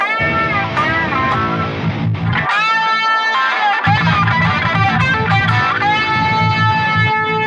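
Electric guitar with an echo effect, distorted harmonic notes ringing and repeating over a steady low drone, loud and continuous with a short break in the low end.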